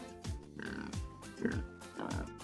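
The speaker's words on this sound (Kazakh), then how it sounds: "шошқа" A pig oinks repeatedly in short, nasal grunts at a steady pace, fairly quiet and close.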